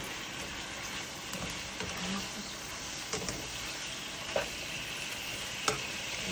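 Beef stew with mushrooms, carrots, zucchini, red peppers and onions is stirred in a pot, a steady low sizzle with a few soft scraping clicks of the spoon, close and fairly quiet, no talking.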